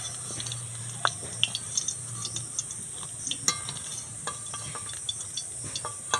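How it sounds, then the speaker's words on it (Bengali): Plantain and rice flour balls for a sweet ladikini fry in oil with a soft, steady sizzle, punctuated by sharp clinks and scrapes of a utensil against the pan. "সবগুলো তেল থেকে তুলে নিয়ে খুব ভালো করে তেলটা ঝরিয়ে নিলাম"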